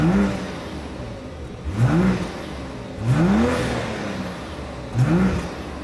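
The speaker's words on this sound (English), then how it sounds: "As always, here is that exhaust clip." A 2026 BMW X5 luxury SUV revs its engine in three loud, rising exhaust bursts, each swelling and falling back to idle, with no talking.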